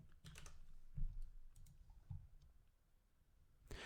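Fingers tap on a computer keyboard, producing a few quiet, close clicks in a short irregular burst over a faint background hum.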